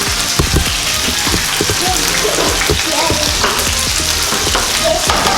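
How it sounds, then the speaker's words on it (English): Oil fries and sizzles loudly in a pan while escabeche sauce is sautéed, with steady crackling and splattering pops close up throughout. "this oil is splattering all around"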